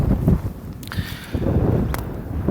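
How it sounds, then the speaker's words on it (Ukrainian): Strong wind over farm fields buffets the microphone with a heavy, rumbling roar that surges and eases in gusts, close and loud throughout. "от сьогодні так дме вітер страшенно"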